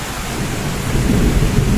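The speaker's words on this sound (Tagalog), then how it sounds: "Nagutakot ako sa kulog at kidlat." A deep rumble of thunder rolls in under steady heavy rain, swelling louder toward the end, during a rainstorm with lightning.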